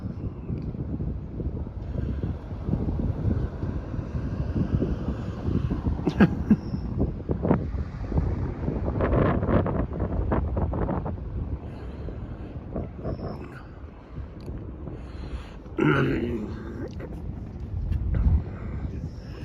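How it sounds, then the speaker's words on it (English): Wind blowing at a riverside where barges pass, a steady rumbling buffet of gusts against the microphone that swells and dips throughout, with no clear talk. "Block this wind."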